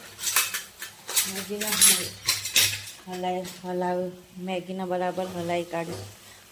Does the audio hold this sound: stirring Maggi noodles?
yes